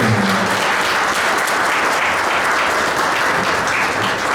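Steady, full applause from an audience at a memorial ceremony and alumni foundation event, honoring donors; dense continuous clapping fills the whole stretch at close, even loudness.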